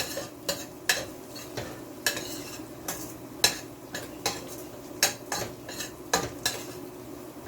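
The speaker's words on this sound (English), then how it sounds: "Allow it to fry up a little to release the flavors." Curry shrimp ingredients frying in a pot for a Jamaican-style coconut milk curry, a steady low sizzle broken by repeated sharp clinks and scrapes of a utensil stirring against the pot, close and moderately loud.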